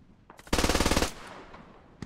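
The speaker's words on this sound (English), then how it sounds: "MG3 trying to fire down the hill." Sustained automatic fire from an MG3 machine gun in a tactical shooter game: a rapid, loud burst of evenly spaced rounds lasting about half a second, then a fading echo.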